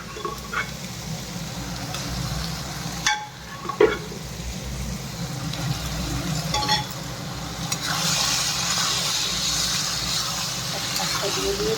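Mustard greens stirred into a simmering vegetable mixture in a pan, giving a steady sizzle with scraping stirs and a few sharper knocks, the hiss growing brighter toward the end.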